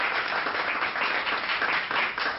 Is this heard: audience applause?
yes